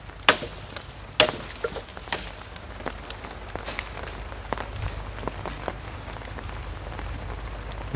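Rain falls steadily on surfaces outdoors at a Thai construction site with concrete posts. The patter is dense and continuous, with a few sharper drops standing out near the start, and no voices are heard.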